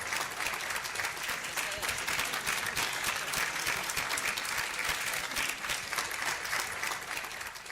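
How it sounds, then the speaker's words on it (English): An awards event audience applauds in an even, sustained wash of clapping across the whole stretch, moderately distant, with no clear pause. "A round of applause for Spectech."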